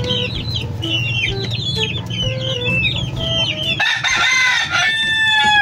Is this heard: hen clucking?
yes